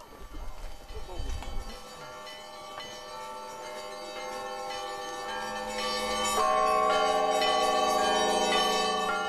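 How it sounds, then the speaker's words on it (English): Church bells in Russia ring for Sunday service in a steady, sustained peal that swells markedly louder partway through, with dense overlapping tones filling the air. "the church bells begin to summon worshippers to Sunday service"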